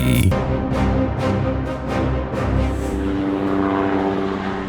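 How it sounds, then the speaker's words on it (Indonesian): A light military helicopter flies past, its engine and rotor making a loud, steady drone with a rhythmic pulsing beat that holds throughout, with no one talking. "Dalam operasi militer modern, helikopter ringan memiliki peran strategis."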